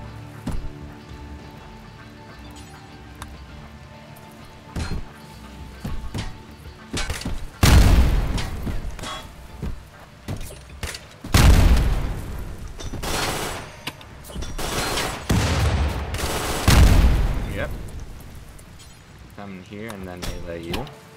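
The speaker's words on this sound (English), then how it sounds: "Alright, you've got a grenade launcher." Repeated heavy explosions from a grenade launcher in the RimWorld video game come as loud booming bursts in clusters. Someone talks between and over them.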